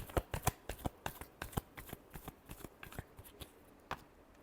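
Tarot cards shuffled by hand in a quick series of crisp riffling slaps and flutters, close and fairly quiet, tapering off toward the end with no speech.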